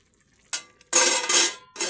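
Greens are stirred in a cooking pan and chopped garlic goes in, heard as a few close scraping and sizzling bursts separated by short pauses.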